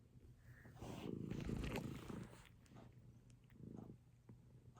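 A cat's soft, close purr rumbles in slow waves, swelling and fading with each breath, with faint background hum.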